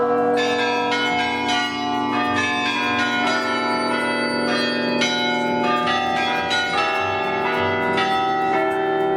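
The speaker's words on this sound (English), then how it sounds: "here are the bells ringing every quarter, I think." Church tower bells in Utrecht, Netherlands, ringing on the quarter hour as a rich, overlapping peal of several tuned bells struck in quick succession, sustained and resonant, with no voices.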